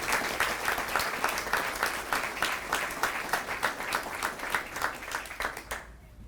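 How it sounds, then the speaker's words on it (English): Audience at a Fort Novosel volunteer of the year ceremony applauds the volunteers, steady rhythmic clapping from a moderate crowd lasting about six seconds before stopping abruptly. "I think that's certainly worthy of a round of applause."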